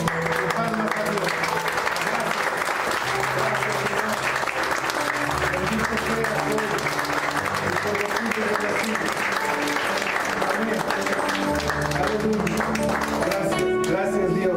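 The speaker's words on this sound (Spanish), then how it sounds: "Palmas a Dios." A church congregation claps continuously and energetically in unison throughout, a steady, dense wall of applause with music and voices mixed in underneath.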